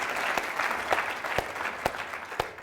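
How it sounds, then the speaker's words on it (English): A studio audience at the Matatu Show applauds a guest, Mr. Mukabana, with a continuous patter of many hands and a few louder individual claps standing out near the front. "Let's give a round of applause to Mr. Mukabana"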